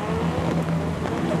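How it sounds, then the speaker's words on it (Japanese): Drift car engine roaring steadily at Formula Drift Japan at Okuibuki Motor Park, a continuous loud mechanical drone with no pause across the short stretch. "平島がドリフト状態から行きどころがなくなってしまいました"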